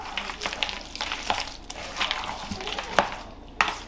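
Crushed walnuts are stirred into a grated pumpkin filling for Bulgarian tikvenik, close scraping and soft clattering strokes of a spoon in a bowl, irregular and brisk with small sharp knocks.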